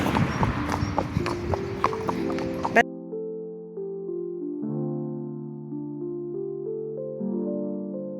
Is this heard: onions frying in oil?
no